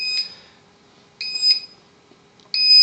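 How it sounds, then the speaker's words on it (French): An electronic control unit for an anti-escape dog fence beeps in three loud, clear bursts separated by about a second of near silence, signalling a broken wire somewhere in the boundary loop. "La centrale va se mettre à biper"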